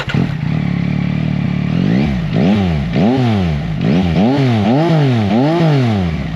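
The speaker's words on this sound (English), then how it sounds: "And you see this 3-into-1 header, nice Leo Vinci pipe, exhaust out the back, which sounds amazing." Yamaha XSR900 three-cylinder motorcycle fitted with a LeoVince 3-into-1 exhaust blips its throttle repeatedly, each loud, close rev rising and falling in quick succession after a steady, rumbling idle.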